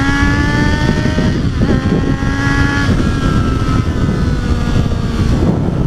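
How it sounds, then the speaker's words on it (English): A 2012 Triumph Street Triple 675 motorcycle's loud exhaust revs hard toward redline in second gear, its rising engine whine climbing in pitch and stepping through a couple of sweeps over heavy wind rush. "That exhaust is heavenly, if not obnoxiously loud."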